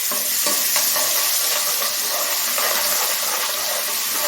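Ginger garlic paste fries in hot oil for a mutton pepper curry, giving a loud, continuous sizzle and hiss with faint stirring scrapes, close up and with no talking.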